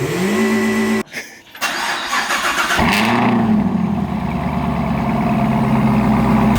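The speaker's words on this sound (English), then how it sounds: "Let me get some revs with it real quick. Cold start." A ZL1 V8 engine with an MPI supercharger lid cranks on a cold start, briefly stumbles, then catches and roars to life, settling into a loud, rough idle with rising revs; no talking.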